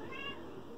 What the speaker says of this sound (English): sorry about the cats